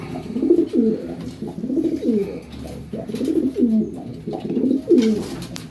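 A tired racing pigeon coos in repeated low, throaty phrases, close and fairly loud, with short pauses between each rolling call and no talking.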